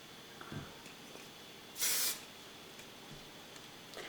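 A single short, gentle puff of Bedhead Masterpiece hairspray hisses out near the middle, brief and fairly close against a quiet room.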